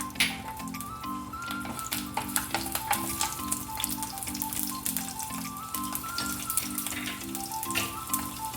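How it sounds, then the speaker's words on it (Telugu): Garlic cloves dropped into hot oil in a pan on the stove for peanut chutney, frying with a bright continuous sizzle and crackle, close and steady throughout, with no talking. "ఆయిల్ వేడైందండి. ఇప్పుడు వెల్లుల్లి వేసుకోవాలి."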